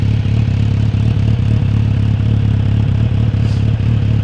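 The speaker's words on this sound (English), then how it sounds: "So quite a good sound on the exhaust." Close, loud idle from the exhaust of a Kawasaki Z900RS motorcycle, a steady low pulsing rumble with light mechanical clatter, no talking.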